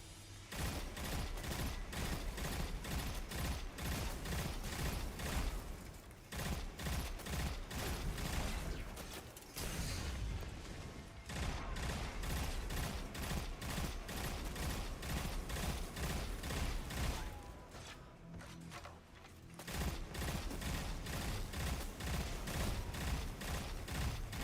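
Rapid video game gunfire aimed at an enemy, loud sustained automatic bursts with a few short breaks between volleys.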